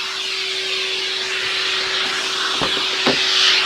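A Metro Vac N Blow Pro 83BA vacuum cleans the plastic and textured fabric inside a Honda car, giving a steady airy whoosh with a couple of brief brush knocks near the end.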